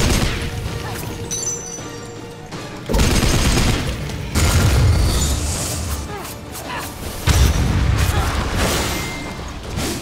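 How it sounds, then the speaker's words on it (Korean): Gunfire and explosive booms in the video game Blades of Time, heavy bursts of shots and crashing impacts arriving in loud waves with quieter gaps between them, set against game effects. "칼로는 안 되는데 이제 총소리가 되네"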